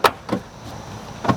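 Heavy door of a Jeep Wrangler being moved, giving three separate knocking thuds, close and fairly loud, with quiet between them and no talking.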